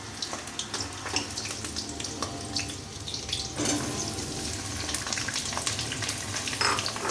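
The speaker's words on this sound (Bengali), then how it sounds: "কেটে রাখা পটলগুলোকে আস্তে আস্তে আমি আবার ভাজার জন্য তেলের মধ্যে" Pieces of pointed gourd sizzle and crackle in hot oil, a steady frying hiss that grows louder partway through, with no talking.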